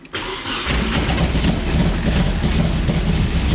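A drift car's engine starts for the first time after sitting and runs rough, missing hard: a sudden crank catch followed by a loud, uneven, close idle that keeps going.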